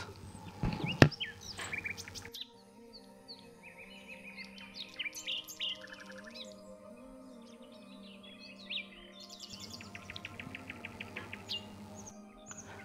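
Several birds sing and chirp among leaves and branches, with bright warbling phrases and quick tweets spread through the whole stretch, a steady low hum underneath, and a sharp loud call near the start.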